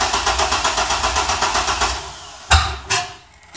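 A cold Chevy S10 truck engine cranks with a fast, steady rhythmic churning for about two seconds, then goes quiet before two sharp, loud pops or thuds.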